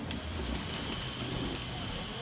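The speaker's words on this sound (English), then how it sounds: "It's going to be raining" Steady rain hiss, constant and moderately loud, with no voices, like rainfall in a game soundtrack.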